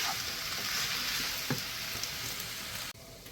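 Seasoned potatoes sautéing in a hot pan give a dense, even sizzle that holds steady close up, with a few small pops, then drops away abruptly near the end.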